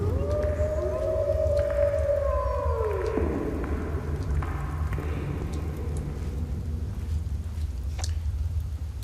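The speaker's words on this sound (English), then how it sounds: "Wolves' howls give them away." Wolves howl in a long rising-then-falling wail, joined by a second, higher howl, heard over a constant low rumble of ambience with faint crackles.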